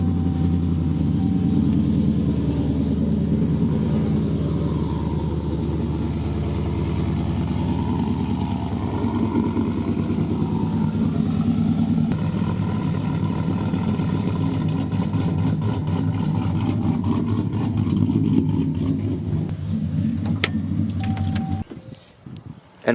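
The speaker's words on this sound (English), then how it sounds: "I'll do a little startup for you guys so you guys can hear the cam" A cammed LS3 V8 swapped into a 2013 Chevrolet Silverado idles after startup with a loud, steady, lopey rumble close by, running continuously before cutting off at the end.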